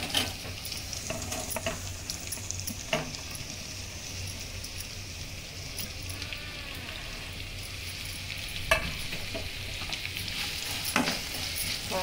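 Onion sizzling and frying in a spice masala for lauki kofta, a steady soft crackle with occasional sharper clicks of stirring, close and moderately quiet, with no speech.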